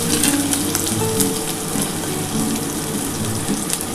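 Onions hitting hot oil in a pan for restaurant-style egg chowmein, a steady loud hissing sizzle that carries on without a break and has no talking over it.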